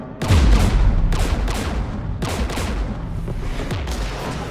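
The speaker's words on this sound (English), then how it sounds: "We're taking fire." Incoming gunfire and explosions in the video game Mass Effect 3: a dense fusillade of shots with heavy booming blasts at the start and again near the middle, loud and continuous throughout.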